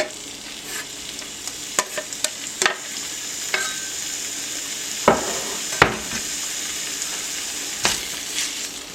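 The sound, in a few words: chunks of bacon and onion sizzling in a skillet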